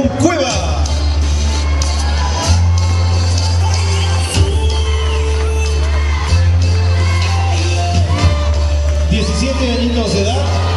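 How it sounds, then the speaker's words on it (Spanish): Pageant audience at a 2011 beauty contest claps and cheers, whooping and shouting over steady crowd noise while an amplified voice speaks and music plays beneath. "El aplauso, por favor, para ella."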